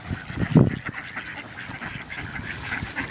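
Ducks or geese being fed bread outdoors, giving a loud honk or quack near the start followed by scattered softer calls and bustle at moderate distance.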